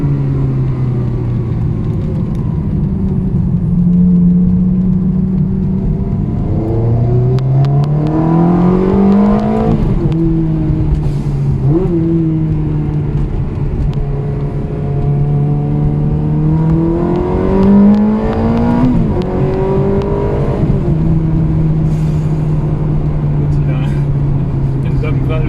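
Lamborghini Countach with 220,000 km at an Italian car meeting, its engine revving up through repeated rising sweeps and settling back, loud and close, with talk over it.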